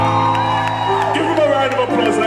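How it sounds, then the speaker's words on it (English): An audience at a poetry reading cheers and whoops loudly, with sustained shouting voices and some clapping blended into a dense crowd roar that holds steady throughout. "Give him a round of applause, ladies and gentlemen."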